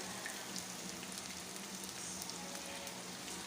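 Two kinds of ginger sauté in a pan for sautéed mung beans, giving a faint, continuous frying sizzle with light crackles throughout.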